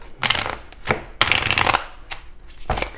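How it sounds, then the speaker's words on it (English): Tarot cards being shuffled during a Scorpio reading, in several quick riffling bursts separated by short pauses, close and fairly loud with no talking. "that's a weird shuffle"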